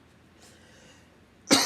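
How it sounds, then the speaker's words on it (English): One loud, sudden cough breaks a quiet pause at the very end, close to the microphone, during a spoken reading. "I apologize for all the coughing."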